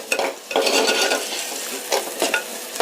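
Pirandai stems sauté in hot oil for kozhambu, a soft sizzle running throughout while a spoon scrapes and stirs the pan in several distinct strokes, close by.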